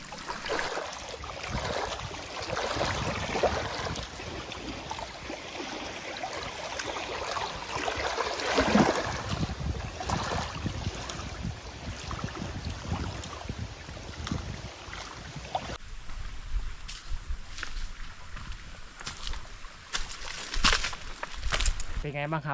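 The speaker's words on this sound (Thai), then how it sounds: "แล้วก็มีคลื่นเหมือนทะเลเลยนะครับผม" Small waves lapping in a clear reservoir near a cave at a Thai monastery, heard as a rough, rushing wash with wind buffeting the microphone, under someone talking for most of the stretch.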